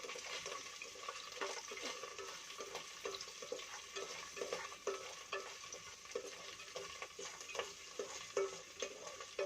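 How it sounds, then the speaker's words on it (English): Okra (bhindi) fries gently in a pan, making a soft, low sizzle with light, rhythmic stirring and scraping. It stays fairly quiet throughout and no one speaks. "So slowly fry. Just 2 minutes."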